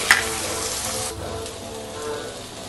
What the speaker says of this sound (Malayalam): അതിലോട്ട് നമ്മൾ കട്ട് ചെയ്ത് വെച്ചിരിക്കുന്ന സവാള ഇടുക സബോളയുടെ കൂടെ കുറച്ച് ഉപ്പിട്ട് കൊടുക്കുന്നുണ്ട്